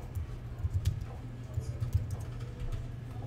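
Computer keyboard being typed on to enter a search, a fast, light run of close key clicks at a quiet level, with no talking.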